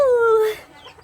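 A bantam chicken gives a short, close, rising-then-falling squawking cluck, followed by quieter background noise.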